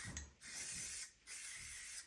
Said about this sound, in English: I'm going to spray it onto the rag.